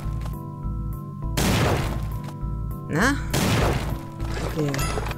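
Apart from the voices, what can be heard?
explosions in a video game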